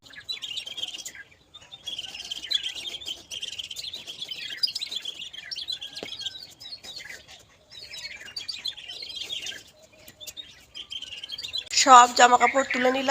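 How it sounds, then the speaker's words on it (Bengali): Many birds chirp and twitter continuously in dense bursts from nearby trees, with a person talking briefly near the end. "গাছের মধ্যে পাখিগুলো বসে আছে কিচিরমিচির কিচিরমিচির কিচিরমিচির করছে"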